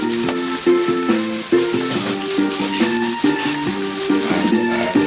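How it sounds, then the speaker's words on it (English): Ackee with onions and bell peppers simmering and sizzling in a pan over low heat, a steady close crackle under rhythmic musical tones. "And turn the fire low and let it simmer down."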